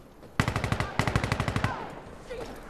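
Automatic gunfire in the video game Insurgency Sandstorm: two loud, close bursts of rapid shots with a short pause between them, then a faint trailing tail.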